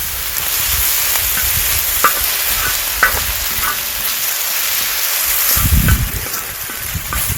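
Shin Ramen fried rice with tuna stir-fried in a pan gives a steady, close sizzle with soft scraping and stirring knocks, swelling briefly louder near the end; no one speaks.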